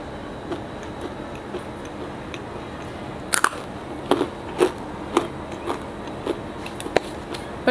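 Dry, crunchy snack sticks being bitten and chewed up close, giving sharp, crisp crunches at an irregular pace over a quiet background.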